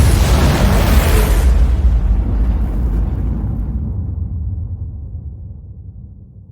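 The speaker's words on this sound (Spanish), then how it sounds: "fuertes explosiones resonaron en el aire, señalando el comienzo de las preliminares" A loud, deep explosion booms and then rumbles away, its roar slowly decaying over several seconds with no voices present.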